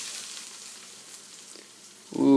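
Food sizzles steadily in a hot pan on medium heat as a soft continuous hiss, before a person starts talking loudly near the end.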